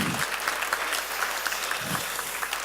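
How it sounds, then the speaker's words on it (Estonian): An audience at a conference claps in a steady burst of applause, dense and even throughout, with faint voices murmuring underneath. "Aplaus."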